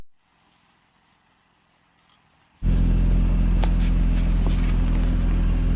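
A Porsche on a steep off-road slope, heard as a near, loud, steady engine rumble that begins abruptly after a few seconds of near silence.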